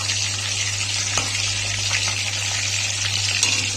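Steady, loud hissing sizzle of hilsa fish head and gills frying in oil, continuous with small crackles and pops and no talking.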